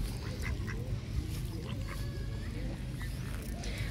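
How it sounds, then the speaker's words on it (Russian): Many ducks gathered for winter, their quacks faint and scattered over a steady outdoor wash of background noise. "Утки на зимовку прилетели. Их тут прям много."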